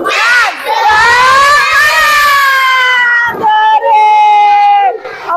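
A class of second-grade schoolchildren performs the tepuk semangat clapping chant, a loud burst of young voices shouting in unison with a few sharp claps near the end, close and filling the room.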